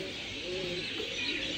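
A pigeon coos softly at Al Noman Park Zoo in Barka, Oman, a faint low call under steady outdoor background noise.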